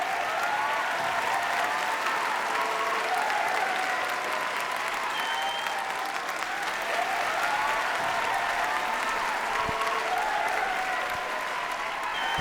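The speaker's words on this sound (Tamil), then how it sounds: "அஷ்மிதாக்கு ஒரு மிகப்பெரிய கைத்தடல்" Steady, sustained crowd applause at an award ceremony for Asmitha in the mother category, a dense continuous wash of clapping with faint cheers and voices mixed in throughout.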